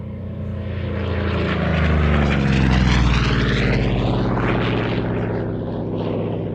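A Corsair propeller fighter flies past at an airshow, its loud droning engine rising to a peak mid-pass and then slowly fading, with a pitch shift as it goes by.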